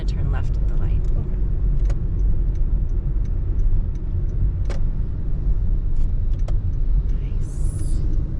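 A car driving on a road during a driving test, with a steady low engine and road rumble throughout, a few faint clicks and rattles over it, and an instructor talking in the cabin.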